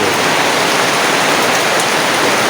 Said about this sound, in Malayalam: നല്ല മഴ മഴയത്ത്